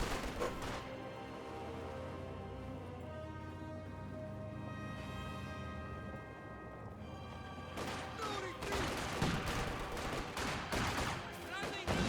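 Gunfire in the World War II strategy game Company of Heroes 2: a low rumbling battle ambience gives way to loud, rapid bursts of rifle and machine-gun fire in the last few seconds, with a commentator speaking over the action.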